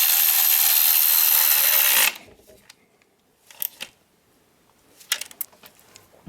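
A power tool tightens the 8mm valve cover bolts on a 2007 Chrysler Sebring, giving a loud, steady whir for about two seconds before stopping. Faint clicks and rustles from handling the engine parts follow.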